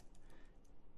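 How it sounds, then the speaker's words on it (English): Arrow keys tapped on a computer keyboard, a handful of quick soft clicks at an irregular pace against a steady noisy background. "I'm just using my arrow keys on my keyboard."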